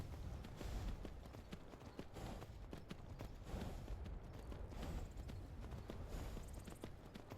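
Horse hooves clip-clopping in the video game Skyrim, a steady rhythmic series of hoof strikes on the ground, moderately close, over low ambient rumble.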